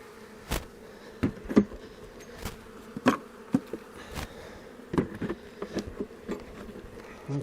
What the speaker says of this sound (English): I can see bees bringing in pollen here.